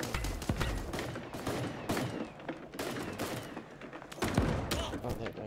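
Rapid bursts of gunfire in the cartoon battle royale game Super Animal Royale, with sharp scattered shots and short volleys that are loud and close.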